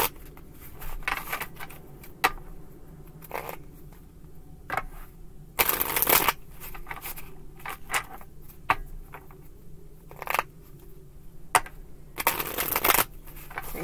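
Tarot cards are shuffled by hand in several bursts, papery riffles and taps alternating with quiet handling sounds, close and soft, with no talking.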